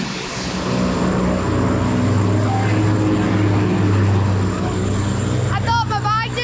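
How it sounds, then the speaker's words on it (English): Small propeller plane taking off from a cold mountain airport on the route to Everest Base Camp, a steady loud engine drone throughout with voices talking over it. "can we stand and watch this plane take off?"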